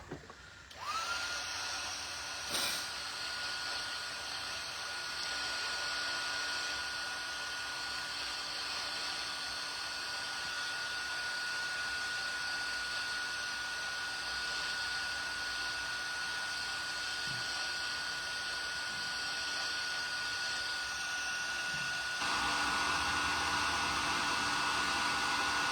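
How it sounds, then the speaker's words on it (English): Heat gun blowing hot air over a stamped card during papercraft, a loud, steady whooshing whine running close and continuously for the whole stretch, with a brief click at the start and a shift in tone near the end. "So we're going to take a heat gun."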